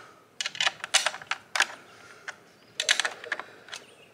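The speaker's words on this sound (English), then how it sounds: "just tighten it up. I don't know why I'm doing it with a wrench" A wrench tightens a skid plate bolt on a 2022 KTM 300 XCW: quick clusters of close, sharp ratcheting clicks in two bursts separated by a short pause, with no voices.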